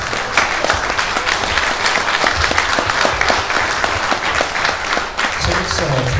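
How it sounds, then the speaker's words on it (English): Sustained audience applause at a Days of the Dead horror convention panel in Indianapolis, dense clapping with cheering filling the room at a steady level for the whole stretch. "let's get some applause for that"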